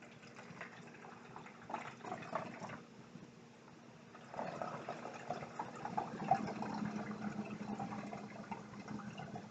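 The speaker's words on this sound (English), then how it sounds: "now we're pouring the oil until it fills all the way up to the red line" Oil pours steadily into a tall bottle, filling it toward a marked line, a soft continuous liquid trickle that swells midway through and carries on without talk.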